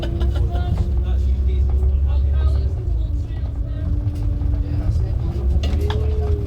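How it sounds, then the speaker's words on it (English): A preserved Leyland Olympian double-decker bus rumbles loudly and steadily nearby, its deep engine drone continuous throughout, with people talking over it. "you can hear this bus coming from a mile away, how loud it is."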